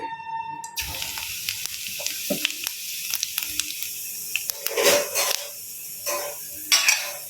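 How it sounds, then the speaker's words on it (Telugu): Cumin seeds dropped into hot oil in a pan, crackling and sizzling in uneven bursts alongside clinks and scraping of utensils, close and moderately loud, with no talk. "ఆయిల్ వేడైంది. జీలకర్ర వేస్తున్నాను."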